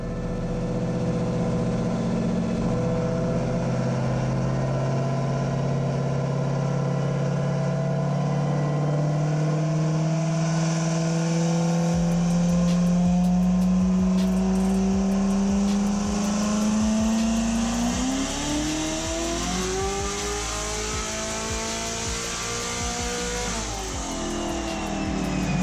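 Turbo Coyote V8 in an S197 Mustang with a TH400 transmission swap, run on a dyno: a loud, sustained engine roar climbs steadily in pitch through a full pull, then drops off sharply near the end.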